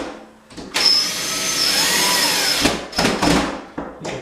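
A power driver tightens the screws of a wall-mounted towel bar, giving a steady close whirring buzz that runs for about two seconds and then comes in a few shorter bursts.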